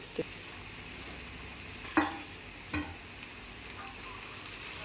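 Boiled minced soybean being stirred and fried in a pan for soya momos, with a few scattered spoon scrapes and clinks against the pan over a quiet steady hiss.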